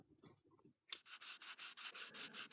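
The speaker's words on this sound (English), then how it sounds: "When sanding timber, it's always a good idea to sand in line with the grain" Hand sanding on timber for a handle, with the grain: a quiet start, then a steady rhythm of about a dozen rasping back-and-forth strokes, close and fairly loud.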